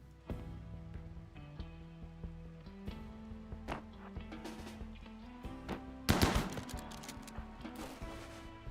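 Gunshots in RimWorld, a handful of sharp cracks spread over background game music, one louder burst standing out near the end.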